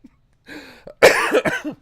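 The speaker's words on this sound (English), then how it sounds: "You're going to make me cough." A short burst of harsh coughing, two or three rough hacks close up, preceded by a brief throat sound.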